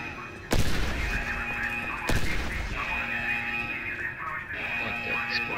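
Grenade explosion in the video game I.G.I 2, two sharp loud booms about one and a half seconds apart, each followed by a rumbling tail over steady game background sound.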